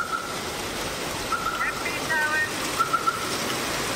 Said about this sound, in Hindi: देखो ये देखो, खूब जम के बारिश हो रही है